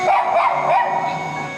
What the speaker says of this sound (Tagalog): Di ba mas maingay yung aso?